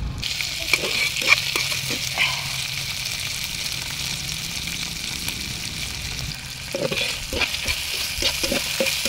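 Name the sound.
dried fish frying with chillies, onion and garlic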